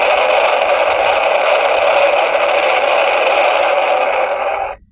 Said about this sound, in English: That's the sound of Thunderbird 3 taking off.